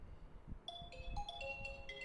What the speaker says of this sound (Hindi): बेटा इस फोन को उठाओ